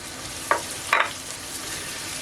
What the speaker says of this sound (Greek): Το βάζουμε να σοταριστεί και αυτό.